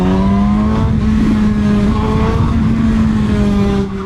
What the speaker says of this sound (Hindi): थ्रॉटल को थोड़ा और खोलें